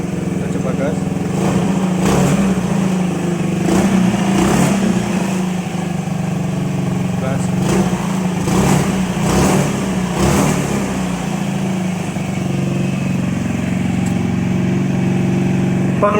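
On a motorcycle converted to run on LPG with its original carburetor, the throttle is blipped repeatedly, giving several short revving surges over a steady running engine, close and loud.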